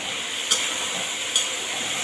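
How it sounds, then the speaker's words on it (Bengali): Vegetables frying with turmeric in a pan give a continuous sizzle, with two sharp utensil clicks against the pan spaced about a second apart and no talk over it. "ভাজা ভাজা হয়ে গেছে, এই যে এখন হলুদটা দিয়ে দিলাম।"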